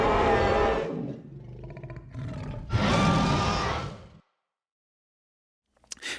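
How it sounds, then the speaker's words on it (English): A very loud, drawn-out roar of a large beast in a tabletop role-play scene, rising in two long, heavy bursts and then cutting to silence before a brief final growl. "you just hear a very loud roar"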